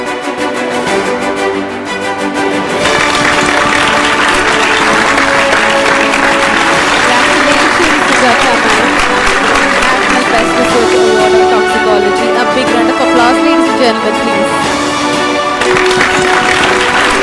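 An audience at a science awards ceremony applauds an award winner, dense sustained clapping that swells after a brief quieter start and continues loudly throughout, with some voices mixed in.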